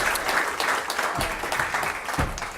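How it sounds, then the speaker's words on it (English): Sustained applause from an audience honoring the panelists at the close of a legal brown-bag panel discussion, dense, steady clapping lasting throughout at moderate loudness. "Please join me in giving a round of applause to our panelists"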